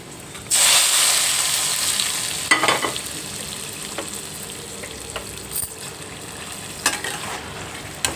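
Spicy Andhra-style mutton fry sizzling and crackling steadily in a pan, with a loud continuous hiss that starts abruptly and occasional sharper pops and scrapes of stirring, with no talking.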